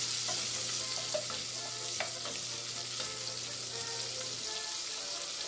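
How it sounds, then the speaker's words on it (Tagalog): Pork for pochero frying in a pan until golden brown, a steady close sizzle with scattered pops and light stirring over a low background hum that cuts out near the end, no voices. "iprito na natin siya ng kaunti"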